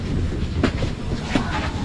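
Kyiv metro train running through a deep underground tunnel, giving a continuous loud rumbling roar with a couple of sharp clacks from the wheels passing rail joints.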